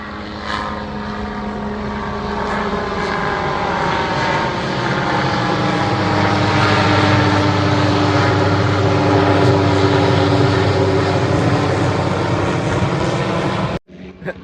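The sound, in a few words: airplane flying overhead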